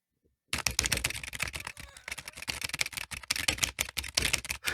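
Rapid, frantic typing on a computer keyboard, like a movie hacking scene, starts after a brief silence and becomes a dense, close clatter of keystrokes heard on its own.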